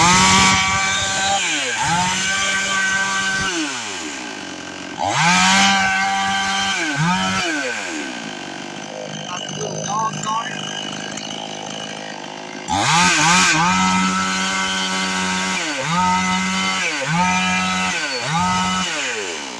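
A small 50cc Temu chainsaw engine revving repeatedly, with loud rising and falling bursts up close, a quieter idling stretch in the middle, then more revving.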